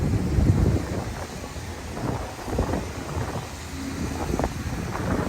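Gusty wind buffets the microphone in low rumbling bursts that rise and fall, with no speech, in Midtown New York City.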